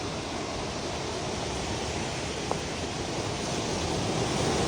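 Steady broadband wash of waves rolling onto the shore of a large lake in Toronto, constant and fairly distant with wind, no speech.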